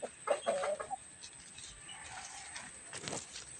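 A chicken clucks a few times in quick bursts near the start, then softer fowl noises and faint rustling follow in a quiet background.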